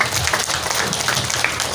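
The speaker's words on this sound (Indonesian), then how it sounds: "Tepuk tangan untuk kita semua." A crowd at a community exercise and meeting event in Bantul claps in a brief, dense burst of applause, fairly loud and close.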